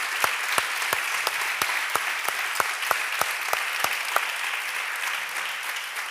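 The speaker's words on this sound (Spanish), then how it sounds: "un fuerte aplauso porque ellos hacen que llegue" Steady audience applause fills a Black Valladolid event hall, dense and continuous with a few sharper individual claps standing out, no talking over it.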